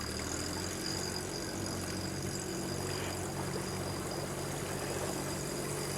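A boat motor on a swamp creek drones at a steady, even pitch through the whole stretch, moderately loud with no voices over it.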